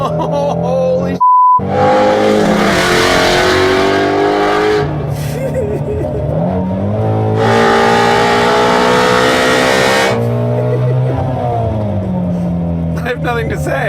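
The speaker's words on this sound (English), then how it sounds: "I'm just gonna let you hear the engine." A sports car engine revs hard and loud nearby in repeated surges, with a short electronic beep near the start.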